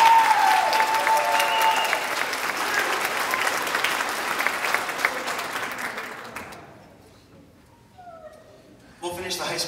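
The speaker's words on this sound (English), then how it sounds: "Give them a round of applause, please." An audience at a high school instrumental Christmas concert claps loudly and steadily for several seconds, then the applause fades out into quiet before a brief noise returns.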